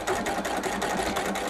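A sewing machine runs steadily at speed, its rapid, even needle chatter filling the short stretch without pause or voices.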